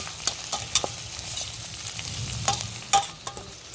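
Mixed vegetables fry in a pan while being stirred, soft sizzling under quick spoon scrapes and clicks, close by and moderately loud.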